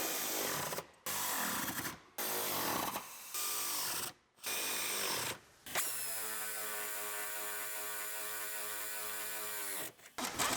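A power tool running in bursts while tightening the seat bolts in a 2015 Chevrolet Silverado LTZ cab, several loud short whirs followed by one long steady whine, close up with no talking.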